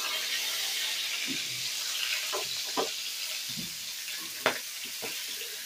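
Whole cloves and cinnamon sizzle in hot oil for tempering a prawn curry: a steady close hiss with a few sharp pops and crackles scattered through.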